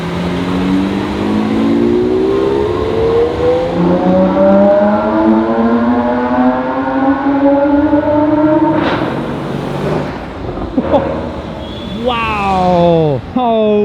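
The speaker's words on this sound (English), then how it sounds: "That's how you drive an SVJ in town. That's a loud one." A Lamborghini SVJ revving hard while driven through town, its loud engine climbing steadily through gear after gear, followed by sharp bursts and rapid revs close by, with voices talking over it.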